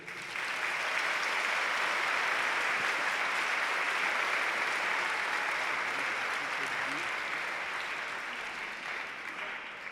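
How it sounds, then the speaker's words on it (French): An audience applauds the children after a Démos Grand Verdun youth orchestra concert, a dense sustained wash of clapping from many hands that holds steady for the full stretch and tapers slightly at the end. "et on peut les applaudir."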